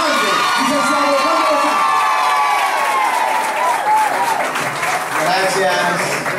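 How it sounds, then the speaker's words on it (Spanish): Applause and cheering from a crowd welcoming a mayor at a chapel inauguration, loud continuous clapping with whoops and high shouting voices layered throughout. "Reciban con un fuerte aplauso a nuestro alcalde."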